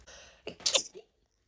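A single quick sneeze, sharp and close, preceded by a brief intake of breath, then silence.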